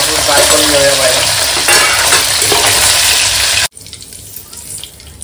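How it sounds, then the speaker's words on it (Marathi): Paneer cubes fry in a pan with a loud, continuous hiss and crackle and some stirring, then cut off abruptly, leaving a faint quieter background. "फ्राय केले तर ते चांगले कडक राहणार आणि क्रिस्पी थोडे लागतात. फ्राय करून घेऊया पाहिजे."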